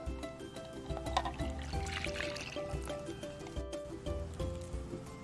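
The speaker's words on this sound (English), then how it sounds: "add my milk" Milk poured into a bowl of strawberry shortcake batter mix, a soft liquid trickle and splash that is close and moderately loud over a low background hum, with light clinks of the container.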